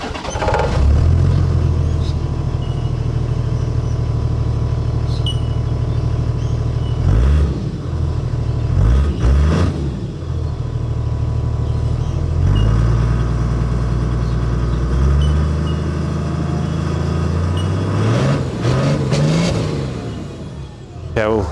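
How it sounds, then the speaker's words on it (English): Toyota Land Cruiser 100 series with a twin exhaust, idling steadily up close with a deep, even rumble and several short revs blipping over it, heard on its own without talk. "we'll get this turned on and we'll have a bit of a listen to the exhaust."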